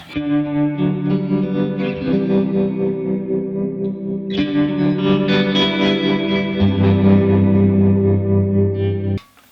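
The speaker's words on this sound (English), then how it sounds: "Here's a big tremolo sound." Electric guitar through a Line 6 Helix tremolo preset playing sustained chords with a pulsing, wavering volume and wide reverb, loud and continuous, no voices.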